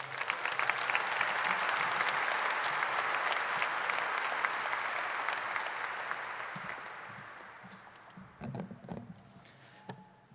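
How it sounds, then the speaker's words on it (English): A large crowd at a high school graduation ceremony applauds the student cabinet and senior Survivor fundraising contestants, a broad, steady roar of clapping that gradually tapers off, with a few last claps and some stage noise near the end. "Let's give Crimson Cabinet and our senior Survivor contestants one more round of applause."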